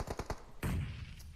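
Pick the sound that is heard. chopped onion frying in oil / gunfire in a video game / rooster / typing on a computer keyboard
gunfire in a video game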